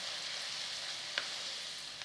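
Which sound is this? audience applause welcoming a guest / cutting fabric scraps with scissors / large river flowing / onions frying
onions frying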